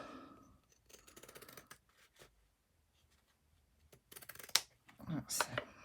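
Scissors cut through paper for a handmade autumn journal cover, giving short bursts of crisp snipping that come and go, with a louder, closer run of cuts toward the end and quiet gaps between them.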